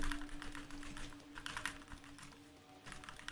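Keyboard keys clatter in quick bursts of typing while playing a game, fairly faint and close, with a steady low hum running underneath.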